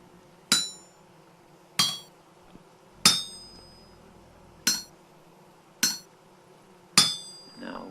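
Six sharp metallic hammer strikes ring out on an anvil while smithing in Vintage Story, each a bright clang spaced about a second apart with a short decaying ring, fairly loud against a quiet background and no talking.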